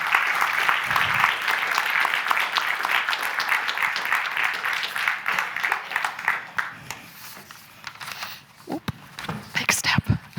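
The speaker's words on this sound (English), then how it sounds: "So join me in giving everybody a big round of applause and a thank you for doing their best." Audience applause at a creativity conference event, strong and continuous at first, then thinning out and fading as a few scattered claps and voices remain near the end.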